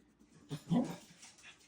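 A brief, faint whimper with a soft yelp from dogs playing somewhere nearby, quiet and short.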